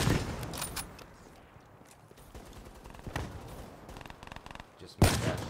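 Gunshots in Black Ops 3 on the Locus map, sharp cracks at the start, middle and near the end, with the loudest one at the close, set against low game ambience and footsteps.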